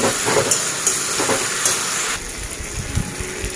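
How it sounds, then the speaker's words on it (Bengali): Spice paste with turmeric and salt sizzling in a pan, a steady dense hiss with faint crackles that softens slightly partway through, with no voices. "এইবার এটা ভালো করে কষিয়ে তারপর জল দেবো"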